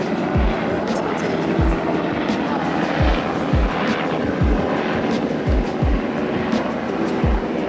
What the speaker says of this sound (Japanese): めっちゃヘリコプター通っちゃったんだけど